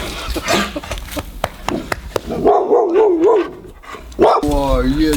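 A little dog barks and yips nearby in a series of short, sharp bursts, followed by a higher whining sound, while people talk over it indoors.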